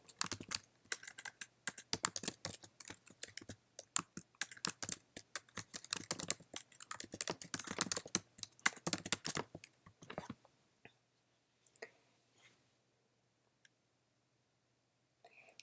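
Rapid, uneven clatter of keys on a computer keyboard as an SQL query is typed, close and dry for about ten seconds, then a few scattered keystrokes before near silence.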